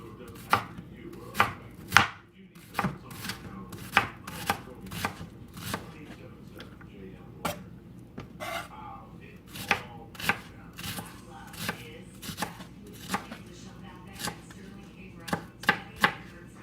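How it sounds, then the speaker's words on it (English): Onion chopped with a knife on a board gives a steady series of crisp, close thunks at an uneven rhythm, about one or two a second, with little else underneath. "The onions are chopped."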